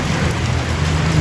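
Steady, dense rain hisses without pause, a heavy downpour with a low rumbling undertone and no voices.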